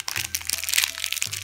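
A Japanese okashi sweet is bitten and chewed up close, giving a quick series of dry, brittle crunches and cracks under a low background hum.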